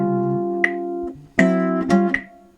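Jazz blues chord comping on a guitar, a short phrase of sustained chords struck one after another in eighth-note rhythm with chromatic movement, close and clear with no talking.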